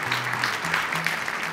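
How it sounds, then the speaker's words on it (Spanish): Audience applause for a musical duo at a televised show, a short dense burst of clapping with a low sustained tone running underneath. "El aplauso fuerte para ellos."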